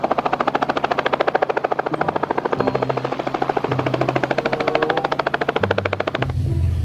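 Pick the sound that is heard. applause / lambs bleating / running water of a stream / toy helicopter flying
toy helicopter flying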